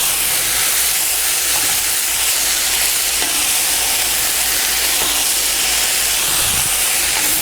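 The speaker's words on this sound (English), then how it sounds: "You hear that sizzle? That's a good thing." Brussels sprouts fry in a hot pan with a loud, continuous sizzle and hiss, with a few faint clicks as they are stirred. No one speaks.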